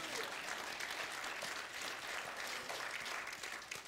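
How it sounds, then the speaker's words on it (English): A church congregation claps in praise during a Sunday service, producing a dense, even roll of many hands clapping together that continues steadily throughout at moderate distance, with no talking over it. "Give the Lord a hand clap of praise for that."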